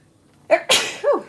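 A single close, loud sneeze from a woman doing chalk art: a sharp intake of breath, a burst of explosive noise, and a short trailing vocal tail.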